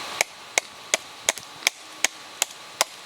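A knife chops wood while carving a bow drill set, giving eight sharp, evenly spaced strikes about a third of a second apart. Each strike is close and crisp and sounds alone with no talk.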